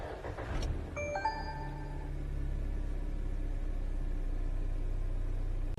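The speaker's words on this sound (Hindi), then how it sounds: "ये इस गाड़ी का स्टार्टअप।" A 2022 BAIC BJ40 Plus with a 2.0-litre turbocharged inline four-cylinder petrol engine starts with a short crank, then settles into a steady, low idle rumble heard from inside the cabin.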